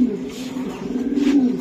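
Racing pigeons of Stephen Lamberts lineage at a loft coo in a low, steady murmur that runs throughout, close and fairly loud, with a brief swell near the end.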